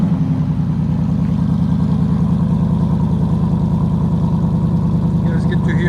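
A 2017 Ford Mustang GT 5.0 V8 with a Ford Performance exhaust by Borla idles loudly on a cold start with a deep, rumbling, lumpy exhaust burble, steady and close throughout.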